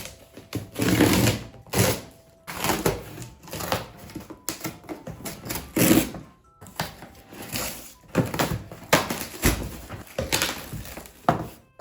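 Cardboard box holding a GoPro Hero 9 Black accessory bundle being opened by hand, with repeated rustling, scraping and thudding bursts of handling noise close up, alone without talk.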